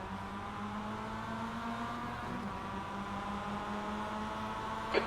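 A Mazda MX5 Cup race car engine in iRacing hums steadily at a standing start, a moderate, even drone with a slight pitch wobble and a brief sharp click near the end.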